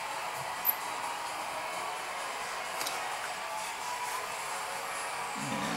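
A Lonex A2 Titan motor runs with a faint, steady airy whir and hiss, unchanging throughout apart from a couple of small clicks, with no talking.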